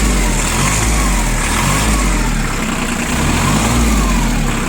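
A loud, steady three-cylinder mini tractor engine running up to higher revs, a low rumbling drone with a rising mechanical whine and no talking.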